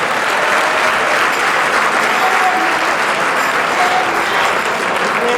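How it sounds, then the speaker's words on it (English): Sustained audience applause in a church gathering, steady dense clapping from a large crowd throughout, loud and continuous with no break. "Give her a hand clap of praise one more time."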